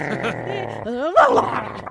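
A man growls and snarls in imitation of an agitated little dog, a short close throaty rumble rising into a rough burst at the end.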